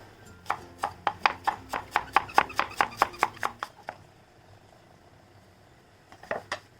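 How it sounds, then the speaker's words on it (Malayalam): Onions are sliced with a knife on a cutting board in a quick, even run of about fifteen crisp close chops, followed by a pause and then a few more cuts. "ഈ സവാള നമുക്കൊന്ന് സ്ലൈസ് ചെയ്തെടുക്കാം."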